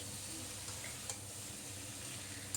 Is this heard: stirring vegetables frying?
yes